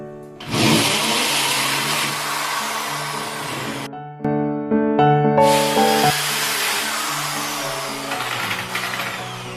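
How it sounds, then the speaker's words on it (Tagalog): A power drill bores a hole into a wall for an expansion bolt while an automatic flushing urinal is installed, running in two loud, steady whining bursts separated by a brief pause, with the pitch shifting as it spins back up. "Barinahin na po natin ang pangalawang expansion bolt."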